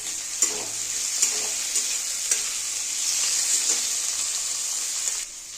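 Chopped tomato frying in a pan with already-fried potatoes and fish nearby, giving a steady close sizzle broken by regular scraping strokes of a spoon stirring it, with no talking.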